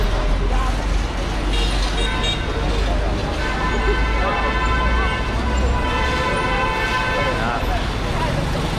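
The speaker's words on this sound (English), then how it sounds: "Just look at this traffic scene." Busy Guangzhou street traffic surrounds the listener with a steady engine rumble, scattered horn toots and a constant roadway hum, under nearby talk.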